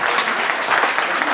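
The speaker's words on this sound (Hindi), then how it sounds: "एक बार तालियां बजा दीजिए" Audience at a Delhi Police selection celebration clapping for the AIR 1 top-ranked student, loud, close, continuous applause from a crowd filling the whole moment.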